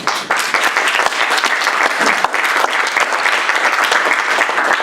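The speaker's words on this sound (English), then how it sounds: "One last round of applause." Steady, loud applause from a lecture audience at the close of a talk on energy beyond oil, dense clapping sustained throughout without a break.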